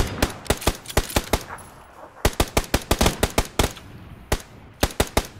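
PUBG gunfire rings out in sharp, loud bursts of rapid shots with a brief lull in the middle, followed by more quick single and double shots.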